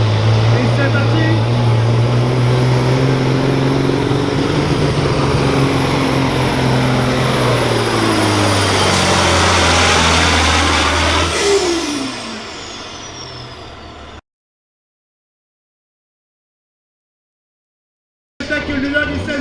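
A Kenworth semi truck engine roars loudly at a truck pull competition in Bedford, Québec, its pitch climbing as it strains under load, then fading out into silence before briefly roaring back.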